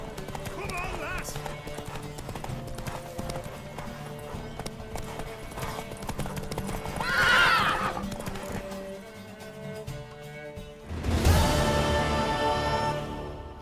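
Hooves clip-clop in a rapid galloping rhythm from a mare in The Witcher 3, broken by two loud whinnies, with game music playing throughout.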